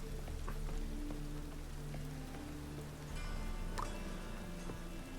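Rain falling in the video game The Witcher 3 at night, a steady hiss of drops on surfaces with a low ambient hum and a few faint ticks, quiet and continuous with no speech.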